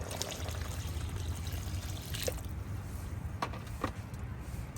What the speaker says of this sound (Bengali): এখানে আমি কিন্তু জলটা যে দিয়ে দিলাম